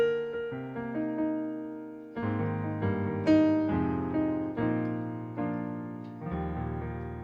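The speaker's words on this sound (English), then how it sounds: "Today I'm using the live concert grand" Yamaha PSR keyboard playing its live concert grand piano voice, a series of sustained chords and single notes struck one after another with rich decaying resonance, close and clear with no talking.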